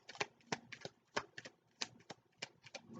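Tarot cards shuffled by hand, a quiet, quick run of soft riffling flicks and taps close by.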